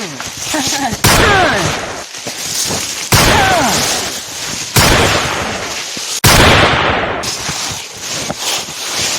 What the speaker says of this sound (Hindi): गोली मारो गोली गोली गोली चलो, फायरिंग हो रहे हैं